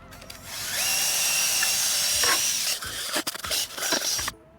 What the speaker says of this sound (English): I've got this drill brush attachment with reasonably stiff bristles.